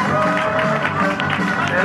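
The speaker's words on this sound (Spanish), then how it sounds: "¡El aplauso!" Wedding guests at a celebration break into applause, a dense steady wash of clapping mixed with crowd noise and voices, loud and continuous throughout.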